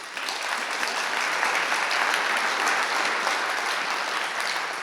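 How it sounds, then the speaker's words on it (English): Audience applause at a public library event honoring library staff, a steady wash of many hands clapping that holds evenly for about five seconds with no voices over it. "I would like to give them a big round of applause"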